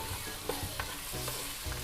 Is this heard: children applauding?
no